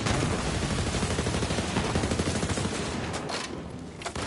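Rapid gunfire from Borderlands 3 rattles on without a break, dense overlapping shots and bursts with a shotgun in the mix, loud and close, thinning a little near the end.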